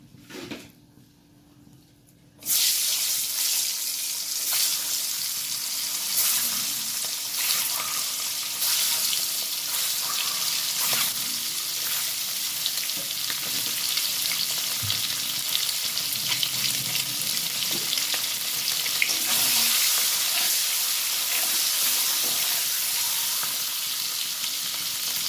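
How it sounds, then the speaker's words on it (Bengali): Poultry eggs fry in hot oil in a wok, a loud steady sizzle that starts abruptly after a short quiet moment and carries on without pause. "আগে সব ডিমগুলো ভেজে নিয়ে তারপর ফুলকপিগুলো ভাজবো।"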